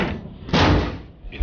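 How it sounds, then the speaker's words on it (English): A hatch opening in the video game Deus Ex The Fall, a heavy metallic thud and mechanical slide, loud and close, followed by a smaller clunk at the end. "Get that hatch open."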